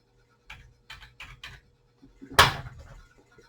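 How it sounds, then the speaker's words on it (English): Angel Answers Oracle cards are shuffled in short, soft riffling bursts: four quick rustles, then a louder snapping riffle, all close and quiet with no talk. "I'm shuffling the Angel Answers Oracle cards while you're thinking about that."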